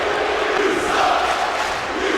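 A wrestling crowd roaring and shouting at a live independent wrestling show, a dense, continuous wall of cheering voices, loud and steady throughout with no clear individual speech.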